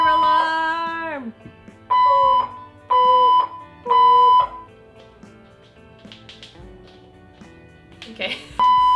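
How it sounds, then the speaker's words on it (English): Fire alarm going off in a home, sounding as repeated loud electronic tone bursts roughly once per second, with people talking and shouting between and over the blasts. "Fire alarm!"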